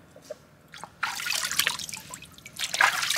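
Water splashes and trickles in uneven pours over a dog during a bath at home, close and fairly soft, starting with a few drips and then running in a steady gush.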